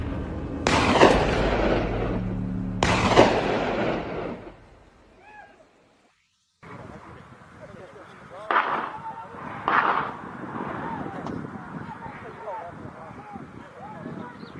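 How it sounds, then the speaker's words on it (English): Two loud rifle shots crack and echo a couple of seconds apart during a wild boar hunt on farmland, then after a quiet gap two fainter shots follow over outdoor background noise. "Gunshots shattered the silence"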